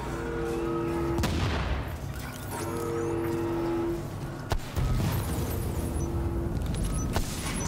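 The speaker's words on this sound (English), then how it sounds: "Ah, grenade!" Grenade blasts during a video game firefight, with sharp booms and scattered gunshots over a rumbling background, loud and close, separated by short pauses.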